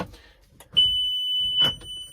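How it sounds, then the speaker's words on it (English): A single sharp electronic beep sounds as a monitor powers on, holding steadily for about a second, loud and clear, preceded and followed by soft clicks. "It'll turn on. Big beep."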